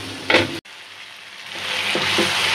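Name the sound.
spice paste (masala) frying for rui fish curry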